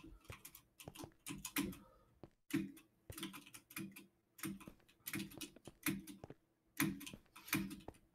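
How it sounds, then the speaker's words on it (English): Computer keyboard typing in irregular bursts of sharp key clicks with short pauses, the heavier thumps of a space bar mixed in, fairly quiet and close with no talking. "I hear that space bar really working."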